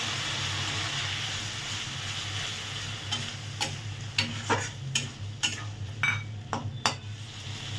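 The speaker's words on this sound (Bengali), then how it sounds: "হ্যাঁ, আমাদের মশলা ভাজা হয়ে গেছে।" Ginger garlic paste and spices fry over softened tomatoes in a pan: a steady close sizzle, then a run of sharp metal spatula clinks and scrapes against the pan in the second half.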